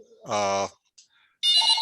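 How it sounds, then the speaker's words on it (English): A telephone rings twice indoors during a yoga and mindfulness session, each ring a bright electronic trill with a short pause between them. "phone is ringing"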